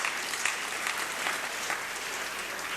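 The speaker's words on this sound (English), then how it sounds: "I'm surprised the applause is not that high." Members of parliament applaud after a budget announcement allocating funds to basic education, a moderate, fairly subdued round of clapping that holds steady from a middle distance.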